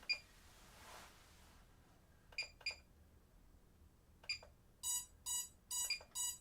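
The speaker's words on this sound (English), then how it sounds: "my beeper works" Electronic beeper sounding short high-pitched beeps, first a few isolated pairs then a faster run of four louder bursts near the end, close and alone over quiet room tone.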